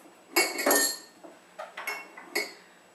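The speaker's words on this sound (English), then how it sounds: "I'm going to put this on my Vitamix, turn this around" A Vitamix blender jar is set onto its base and turned, giving a couple of hard plastic-and-metal clunks followed by several lighter clicks and knocks close by.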